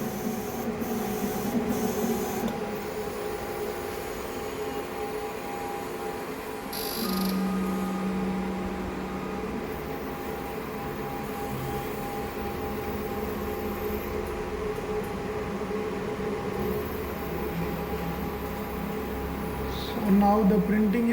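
UV printer laying down its final layer with a UV curing head, giving a steady mechanical whir and hum with a brief tonal change partway through and a louder burst near the end, under faint talk.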